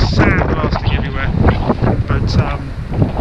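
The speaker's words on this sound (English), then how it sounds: "very windy still, there's sand blasting everywhere" Strong wind on a beach buffets the microphone in a steady, loud roar, with gusty broadband rushing and blowing sand throughout.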